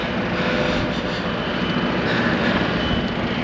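Airplanes pass overhead in London, a steady broad roar of aircraft engines that fills the scene evenly and continuously without breaks.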